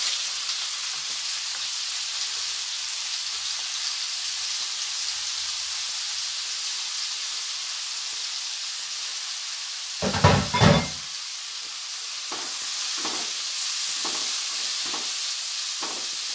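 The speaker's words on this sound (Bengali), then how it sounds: "এবারে পেঁয়াজটাকে ভালো করে লাল লাল করে ভেজে নেব।" Onion coated in vinegar frying in a pan for a chicken pepper fry, a steady bright sizzle running alone throughout, with a brief louder burst of spatter and stirring partway through followed by a few soft scraping strokes.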